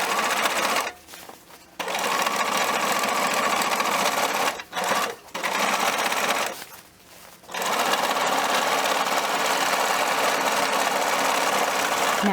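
A sewing machine stitches a shirred elastic-bust dress in loud, close, continuous runs, broken by a few brief pauses where it stops and restarts, as when stitching forward and reversing.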